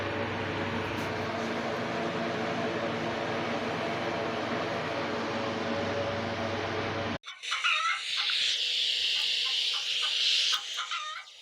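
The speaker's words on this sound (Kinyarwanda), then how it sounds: "iyo twumvise inkoko tumenya aho tugeze" Chickens cluck and squawk close by, loud and busy, after a steady mechanical hum cuts off abruptly.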